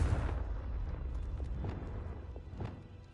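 A Confringo fire-blast spell from Hogwarts Legacy, a loud rumbling explosive burst at the start that decays into a low roaring, crackling wash with a few faint thuds.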